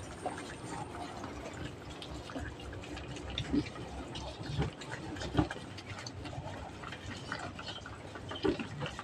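Goats eat and drink wet feed from a basin, producing faint, intermittent wet slurping and lapping with occasional small clicks and splashes, soft and close against a quiet background.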